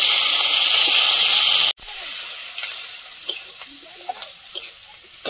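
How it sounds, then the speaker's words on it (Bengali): Spices, onion, garlic and green chilli hit hot oil on an outdoor clay stove, a loud burst of hiss that cuts off abruptly, then softer crackling with sharp spits and pops. "তেল ছিটকে পড়েছে"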